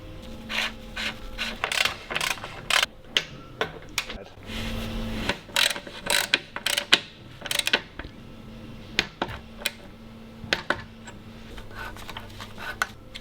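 Mechanical clicks, creaks and metallic rubbing as a bicycle bottom bracket is fitted and cranks are installed during a 2024 bike build, with sharp intermittent taps and ratchet-like bursts close by, no talking.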